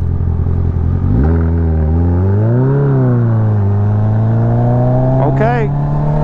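A Kawasaki ZX14r motorcycle engine revs on a country road, a loud close drone whose pitch rises and falls through gear changes, with a brief burst of higher whine near the end.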